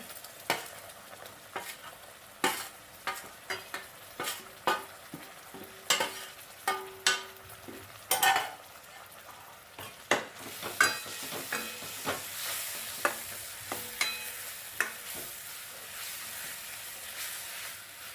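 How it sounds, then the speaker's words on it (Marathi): Coconut masala is stirred and sautéed in oil for an egg masala curry, a soft continuous sizzle broken by regular spoon scrapes and knocks against the pan, the frying hiss growing brighter in the latter half. "त्याला तेल सुटेपर्यंत परतून घेते"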